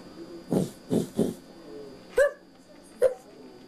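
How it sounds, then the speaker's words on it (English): A puppy gives three quick, soft whimpering yips close by, then two sharper, louder barks after short pauses. "And the puppy. Hey, puppy."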